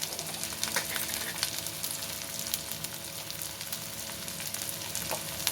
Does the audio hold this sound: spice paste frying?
yes